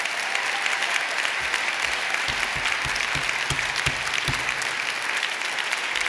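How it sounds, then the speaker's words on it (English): Sustained, dense applause from a graduation ceremony crowd at Dublin City University honouring graduates' families and supporters, steady and full throughout with no talk over it. "give your backroom team, your supporters, an even bigger round of applause"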